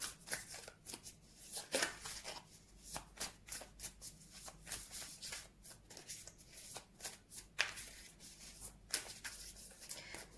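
Tarot cards shuffled by hand, a steady run of soft riffling and rubbing swishes with short papery bursts, close and quiet, with no talking.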